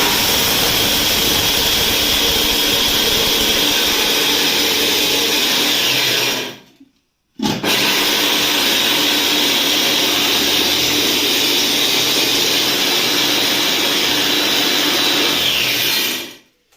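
A homemade corn crusher built from an angle grinder whines loud and close in a steady high-pitched roar, cuts out briefly near the middle, then spins back up and runs until it winds down at the end.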